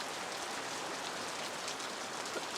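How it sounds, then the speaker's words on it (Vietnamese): Steady countryside rain falls in Vietnam and leaks into a home kitchen, a dense, even hiss of drops on surfaces with no voices. "Giới thiệu với mọi người đây là mưa quê."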